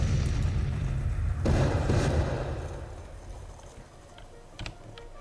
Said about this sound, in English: Let's just unlimber all of Huger's artillery here and get them shooting at whatever they can shoot at